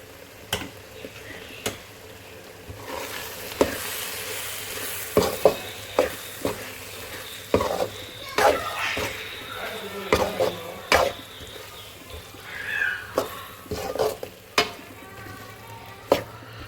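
Chopped ridge gourd being stirred into hot oil for a prawn thokku, with a steady sizzle under repeated sharp clacks of a spoon against the pan, no talking.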